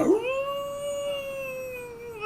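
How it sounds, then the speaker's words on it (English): A mournful monster wolf howls from the woods in one long sustained wail, steady in pitch with a rising start, loud and alone with no talk over it. "you hear another one of those sorrowful howls"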